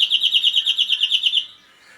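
A greenfinch gives a close, steady trilled phrase of rapid repeated notes that stops abruptly after about a second and a half, with no voices.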